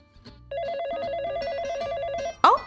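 A telephone rings on a morning call-in show with a steady warbling electronic bell tone that lasts about two seconds. A brief sharp clack follows, like the receiver being picked up.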